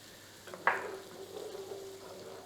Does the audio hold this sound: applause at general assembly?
no